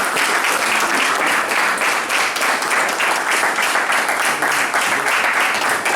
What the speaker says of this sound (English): Let's give our brother minister another round of applause